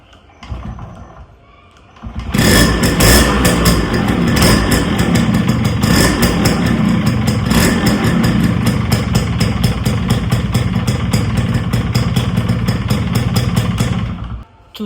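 A Yamaha RX100 two-stroke motorcycle fitted with a self starter cranks and fires after a quiet moment, then idles loud and close with a steady, rapid clattering beat until it cuts off abruptly.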